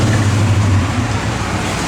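A 1965 Pontiac GTO's engine runs loud and close with a deep, steady rumble, held at a raised rev rather than rising sharply over a short burst.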